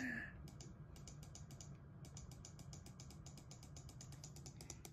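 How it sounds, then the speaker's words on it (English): Rapid, steady clicking of a computer mouse being spammed during a Roblox Thomas and Friends game, a dense run of close, sharp clicks continuing for several seconds at low volume. "I'm just spam clicking."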